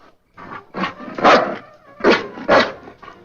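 A dog vocalizing nearby in a sitcom scene, a series of rough, throaty bursts rising and falling in loudness, close and fairly loud with no talk over them.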